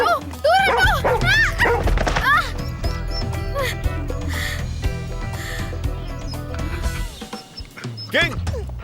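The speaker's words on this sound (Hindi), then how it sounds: "किंग, अपने कुत्ते को हटाओ यहाँ से।" A dog named King barks in a few quick, close yips and woofs at the start, with people talking and shouting over a steady low rumble throughout.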